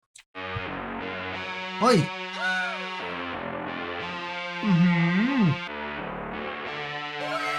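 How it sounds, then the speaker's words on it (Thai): A harsh, distorted synth tone from the music-mixing game Sprunki drones steadily with buzzing harmonics and swooping pitch bends, loud and continuous, with a brief spoken exclamation at the very start. "เป็นเสียงซิ้นเดือดเดือดครับเสียงแตกดิสทอร์ดนะ"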